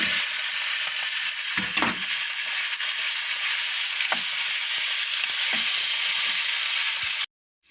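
Chicken sizzles in olive oil with garlic in a close, steady hiss of frying, broken by a few soft stirring scrapes, before the sound cuts off abruptly at the end.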